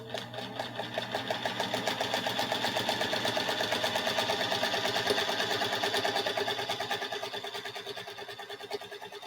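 Singer Featherweight sewing machine chain piecing quilt blocks, a rapid steady mechanical whir and needle clatter at close range, swelling and then slowing toward the end.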